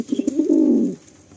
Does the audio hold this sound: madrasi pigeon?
yes